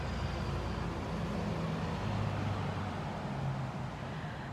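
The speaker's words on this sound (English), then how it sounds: "You will hear the traffic." Steady outdoor traffic noise, a broad continuous roadway hum with low rumbling passes underneath, fairly constant in level and without speech.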